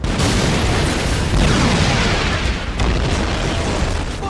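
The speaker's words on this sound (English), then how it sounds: "throw a few grenades to destroy the anti-aircraft gun" Grenades destroy an anti-aircraft gun in a video game: a continuous, loud, dense wall of explosive rumble and debris that stays heavy throughout.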